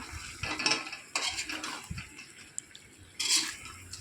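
Home-raised chicken and fried potatoes are stirred together in a pot with a low sizzle, broken by metallic scrapes and clinks of a spoon against the pot in irregular bursts.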